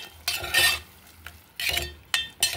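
Spoon scrapes and clinks against a pan as chana dal is added and stirred in hot spices for an Andhra-style bottle gourd dal, several separate stirring bursts with a soft sizzle beneath, close by.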